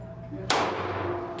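A single sharp shot from a Wilson Combat X-TAC 1911 pistol cracks loudly at a shooting range, its broad burst trailing into a decaying echo over a low steady background hum.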